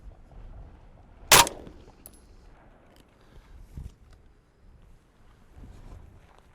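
A single loud, sharp 5.56 rifle shot cracks out during an outdoor FMJ penetration test against paper plates and cinder blocks, followed by faint wind rumble and quiet handling noise.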